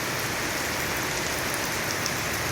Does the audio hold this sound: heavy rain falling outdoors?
yes